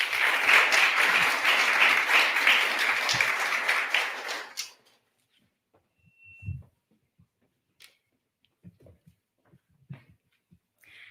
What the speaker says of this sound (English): Big round of applause for your outgoing Connecticut Kid Governor